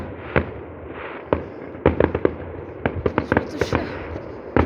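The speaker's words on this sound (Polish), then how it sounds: "ktoś u mnie też bez powodu puszcza fajerwerki w niebo" Sharp fireworks bangs go off at irregular intervals, some single and some in quick clusters, over a steady background rumble.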